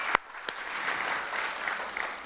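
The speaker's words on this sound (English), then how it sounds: "So let's give them a round of applause as well." Applause at a Trans Pride awards and keynote event in Washington DC, opening with a couple of sharp close claps, then a softer, steady round of clapping from the audience that carries on evenly.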